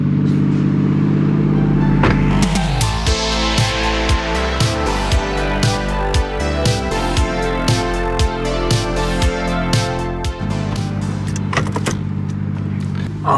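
A Toyota JZX100 Chaser with a JZ engine and Tomei exhaust revs hard, a loud, close, rasping engine note climbing and falling in repeated blips with some clatter.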